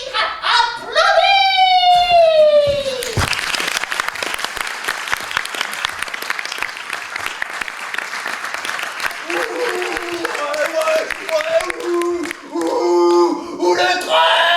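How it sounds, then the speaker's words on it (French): A wildly excited crowd cheers and applauds loudly and continuously, with a dense wash of clapping and shouts. Voices and sung or chanted tones rise over the noise at the start and again near the end. "La foule en délire applaudit."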